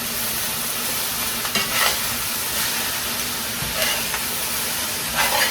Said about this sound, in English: now all the seasonings from that are going to go and cook in with everybody else